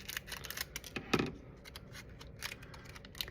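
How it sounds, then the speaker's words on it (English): A few crisp snips of scissors cutting through soft modeling clay, with one louder cut near the middle, in an otherwise quiet room. "Take a pair of scissors and cut the clay open."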